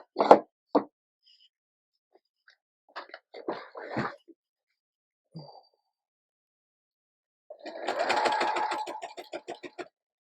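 A sewing machine back stitching across a paper Bible study envelope gives a short, quiet burst of rapid mechanical stitching near the end, after a few faint scattered clicks and handling taps.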